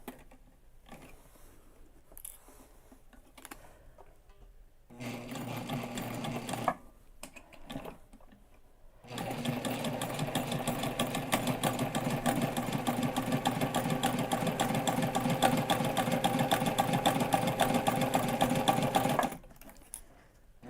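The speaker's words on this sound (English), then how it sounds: "Okay, so I'm just going to sew along this line." A sewing machine stitching a backpack seam, loud and close, running in a short burst, then a longer steady whirring run of about ten seconds, with quiet pauses and handling between.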